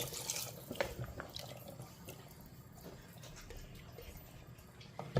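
Water poured into a pressure cooker for cooking in a kitchen, a faint splashing and trickling with a few small drips, quiet and close, with no talking over it.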